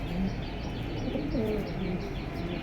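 A pair of red Pati pigeons coos in low, rolling bursts, close by and steady, against a dense background of other birds and ambient noise.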